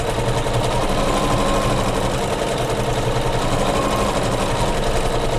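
An embroidery sewing machine stitches small quilted loops along a pillow's border strip in a hoop, a steady, loud mechanical whir with fast, even needle chatter running throughout without pause.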